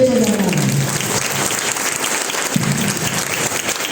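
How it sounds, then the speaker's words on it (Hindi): Loud, dense applause from an audience fills the whole stretch as one steady wash of clapping, with a brief voice fading out at the very start. "तो एक बार अपने आप खुद के लिए ऐसा जोरदार ताली बजाइए"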